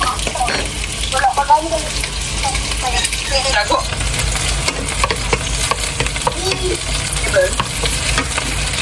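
Chicken frying in a pan in a home kitchen, a loud close sizzle running throughout with stirring and utensil scrapes, while people chat over it.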